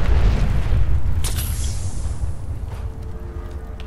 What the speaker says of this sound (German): Wow, Auto explodiert.